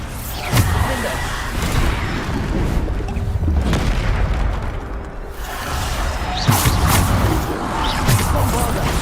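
Bombarda spell blasts in a wizard video game: several heavy booms with whooshing bursts, loud and close, repeated at irregular intervals among rumbling effects, with a voice shouting spell names.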